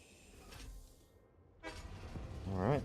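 A train in the factory-building game Satisfactory honks its horn: a clear harmonic toot rises near the end, following some rumbling and clatter from the game.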